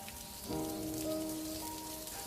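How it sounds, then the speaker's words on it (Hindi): Rain starting to fall as a horror-story sound effect, a steady wash of patter that swells in after a moment and holds loud and close, with a low tonal drone running underneath. "एकदम से बारिश भी शुरू हो जाती है।"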